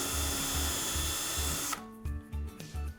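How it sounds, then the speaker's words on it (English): A power drill bores a pilot hole through a shim into an elevator cab shell, guided by a drill guide during horizontal wall panel installation. Its steady close whine runs nearly two seconds, then breaks into a few short bursts. "using your drill guide, drill a pilot hole through the shim into your cab shell"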